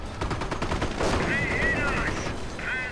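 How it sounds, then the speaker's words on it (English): An anti-tank gun opens fire in a World War II strategy video game, a sharp report followed by rapid rattling gunfire and battle noise, loud and close, with chirpy whistling effects layered over it. "Anti-tank gun opens up."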